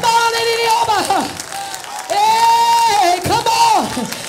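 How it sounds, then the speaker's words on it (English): A church congregation claps along at a prayer day in Ohio, the steady clapping running beneath a loud preacher's singing voice that swells and breaks off in long held phrases. "Clap those hands, Zion, and tell God yes."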